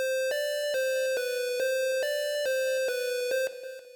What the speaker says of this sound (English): And for the mix of the sound, I added a reverb and added some delay.